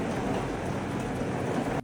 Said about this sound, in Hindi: देखो क्या बारिश हो रही है यहाँ।